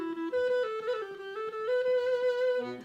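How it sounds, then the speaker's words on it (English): A homemade flute fashioned from a brass water pipe plays a short wavering melody, its breathy, reedy tone sliding between a few sustained notes, close and alone. "But now I play on a water pipe, and it sounds like this."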